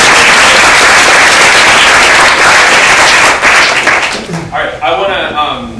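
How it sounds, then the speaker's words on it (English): Applause from a room of fifty or more people at a mental health training session, a loud dense wash of clapping that fades and thins out near the end as a voice starts to speak. "We have a round of applause."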